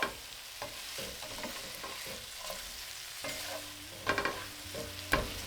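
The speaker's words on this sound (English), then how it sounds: "Gently stir from time to time." Meatballs simmer in a thickened sauce over medium-low heat, a soft steady bubbling sizzle broken by occasional louder scrapes and clinks as a utensil gently stirs the pan.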